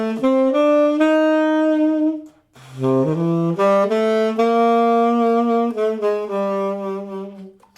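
A blues lick on guitar that lands on the flatted seventh at its peak instead of the tonic. Clear sustained single notes ring out, with a brief pause midway before the phrase resumes and carries on, played alone and close.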